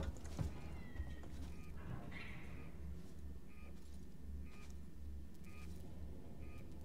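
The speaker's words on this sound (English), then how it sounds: "Was that a cat, guys?" A cat meows once in a video game, a short faint rising cry over a steady low background hum, with a few soft clicks afterward.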